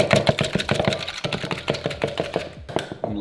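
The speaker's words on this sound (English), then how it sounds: "Whisk that up." Eggs whisked briskly in a bowl in a home kitchen, a rapid run of close, sharp clicking and tapping strokes at a steady beat with no talk.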